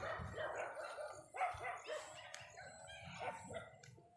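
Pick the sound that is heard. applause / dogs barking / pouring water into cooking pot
dogs barking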